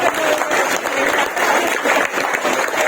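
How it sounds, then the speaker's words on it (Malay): Audience applause for students at a school excellence awards ceremony, a steady, full wash of many hands clapping at even loudness throughout with no voices standing out. "Berikan tepukan kepada anda."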